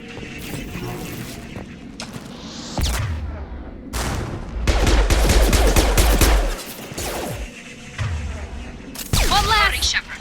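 Gunfire in the PC game Mass Effect: Legendary Edition, with bursts and rapid volleys of shots and heavy booming impacts coming in waves over a combat soundtrack, and character voices calling out during the fighting.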